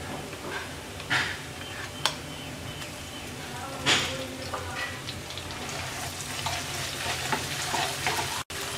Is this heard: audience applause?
no